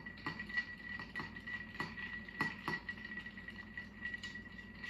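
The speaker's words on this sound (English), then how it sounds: "hold the spoon between your middle and your ring finger and just keep pressing against the edge of the glass" A bar spoon clinks rhythmically against the inside edge of a mixing glass while stirring an Old Fashioned cocktail over ice, a steady series of light, close glassy taps and ringing chinks.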